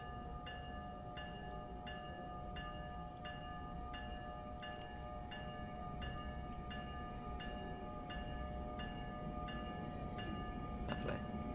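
An ALP46 electric locomotive pulls away on the NEC New York–Trenton line in Train Sim World 4, with a steady low cab rumble and a repeating electronic chime pulsing evenly throughout, no talking.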